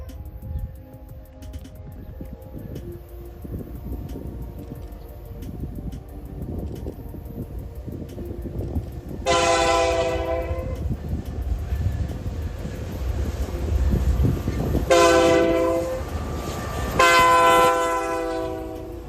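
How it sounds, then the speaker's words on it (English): CN freight train A424, running from Sarnia to Toronto on the Strathroy Subdivision, rumbles closer through the bushes, then sounds three horn blasts as it passes nearby, over a steady, growing roar of wheels and engine. "we have a train coming through the bushes,"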